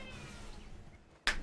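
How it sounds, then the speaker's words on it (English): A pet cat lets out a single sharp meow close by, ending a stretch of quiet room tone, with no talking. "As my cat just keeps whining"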